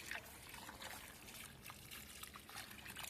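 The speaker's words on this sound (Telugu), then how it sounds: "ఇలాగ వాటర్ బాగా పోయాలి" Water trickles and splashes steadily onto soil around home garden plants, including a jujube tree, a continuous close, gentle pour with no talking.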